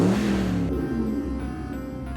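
A truck engine revs, a rising and then falling mid-pitched roar that settles into a steady idle hum after the first second.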